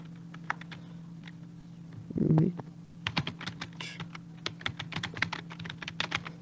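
Irregular clicks of fingers typing a name into an online application form on a computer keyboard, close and crisp over a steady low hum, with a short muffled rumble partway through.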